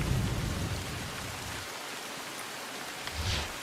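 Heavy afternoon downpour across Bharuch district, a dense steady hiss of rain with low rumbles of thunder near the start and again toward the end, no voices.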